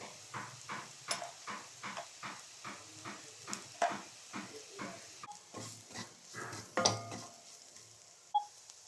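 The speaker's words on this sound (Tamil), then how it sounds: "எல்லாம் நல்லா வதங்கிடுச்சு" Onions sauté with coriander powder, fennel powder and pepper in a pan for mutton liver gravy, a spoon stirring in a steady rhythm of soft scrapes about twice a second over a faint sizzle, fairly quiet and close.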